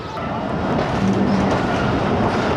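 A passenger train rolls along the Lahore to Narowal branch line, heard from on board as a loud, steady rumble with rhythmic wheel clatter and a faint squeal.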